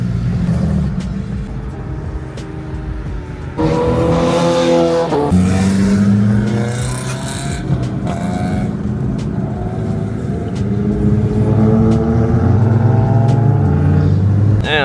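Modified Infiniti Q50S engine rumbles loudly and continuously while driving around Gatlinburg, with revs rising and falling through gear changes and a harsher rasp in the middle stretch.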